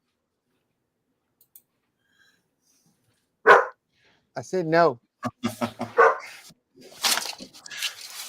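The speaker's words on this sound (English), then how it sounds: "we heard from a dog apparently" A small dog barks once and then gives a few short yaps from a daughter's pet named Knives at a home livestream, mixed in with a voice speaking nearby.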